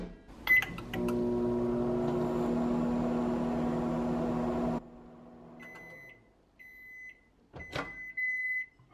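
A microwave oven hums steadily for several seconds while heating chocolate, then stops and gives a series of short, bright beeps, with a few clicks and a door-like clunk near the end.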